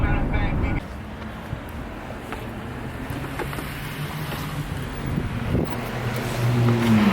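A 2019 Ducati Panigale V4 motorcycle engine rumbles low and steady nearby, with wind buffeting the microphone and a brief rise in revs toward the end.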